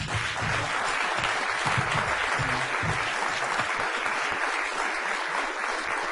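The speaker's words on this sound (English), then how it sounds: "Give these girls a big round of applause." A crowd gives the girls on stage a big round of applause, a loud, dense, continuous roar of clapping that holds steady throughout.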